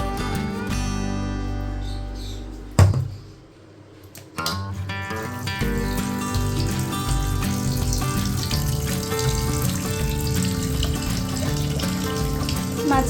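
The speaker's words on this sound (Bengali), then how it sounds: "চলো মাছটা ধুয়ে নিই।" Tap water gushes steadily into a sink while fish is washed by hand, a dense continuous splashing that briefly cuts out and then resumes just as loud.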